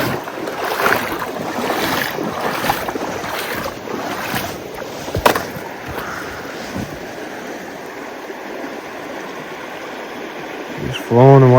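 A wide, open river rushing steadily as people and a dog wade across it on foot in winter, with continuous broadband water noise, occasional splashes and brief voices throughout.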